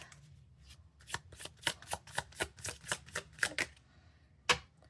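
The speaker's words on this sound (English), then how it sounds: "I'm gonna shuffle this really quick." Tarot cards are riffled and tapped in a quick series of about a dozen crisp, close snaps, ending with one more sharp flick after a pause.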